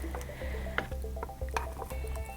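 Paint gently poured into a single bucket, several colours layered on top of each other; soft wet squishing and glugging with a few small drips, quiet and close, no talking.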